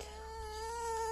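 A pet fox makes a thin, steady whining creak like an unhappy cat's drawn-out complaint, sustained and fairly quiet throughout.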